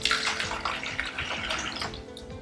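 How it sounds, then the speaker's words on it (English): Hot water poured into a cup to make jello, a steady close splashing and trickling stream filling the cup for the whole moment, with no talk over it. "We'll put the hot water in."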